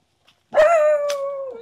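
A single dog barks once nearby, then draws the bark out into a long, strained howling whine that slowly fades, loud and alone.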